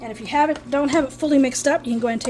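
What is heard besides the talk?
No everyday noises stand out.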